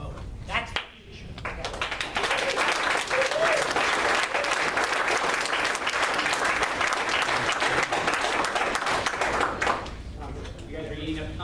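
Sustained audience applause at a Long Beach neighborhood candidate forum, many hands clapping loudly and evenly for about nine seconds, with brief voices at the start and end.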